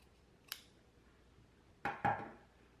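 Fabric scissors trimming a sewn seam allowance close to the stitching, heard as one light snip followed by two sharper, closer cuts in quick succession against a quiet background.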